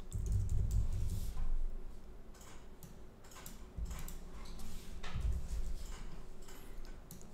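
Computer keyboard typing during coding work, soft irregular key clicks close by over a low room hum, faint and sporadic.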